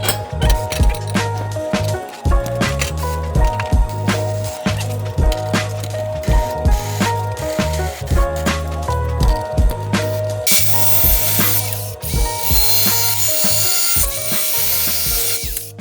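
A hand ratchet tightens a nut while mounting a battery-powered Nomadic Cooling air conditioner on a van roof, giving rapid, close clicking in continuous bursts, loud and alone.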